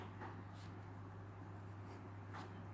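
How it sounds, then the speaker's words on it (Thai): A pencil scratches softly on paper while sketching a fashion figure, with faint, intermittent strokes in a quiet room. "เราก็จะ ร่างภาพ หุ่นแฟชั่นกันก่อน"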